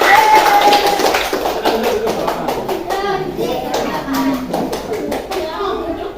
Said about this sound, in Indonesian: bawa tepuk tangan untuk teman-teman